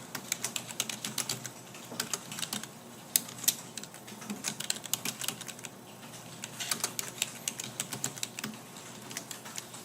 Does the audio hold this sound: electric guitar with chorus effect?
no